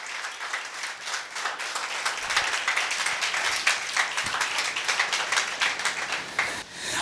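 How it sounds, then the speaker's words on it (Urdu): Loud applause from a congregation at a Sunday church service, a thick, continuous wash of clapping that builds slightly and stays strong for around seven seconds before dipping at the very end, with no speech. "ایک دفعہ زوردار تالیاں بجائیں گے خداوند کے جلال کے لیے"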